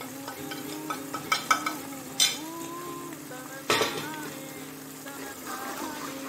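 White pepper powder being stirred into a sautéing mix in a pan, with soft sizzling, a few metal spoon clinks against the pan and faint background voices.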